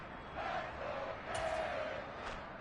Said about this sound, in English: One of the bigger plays in the game thus far, and the crowd getting into it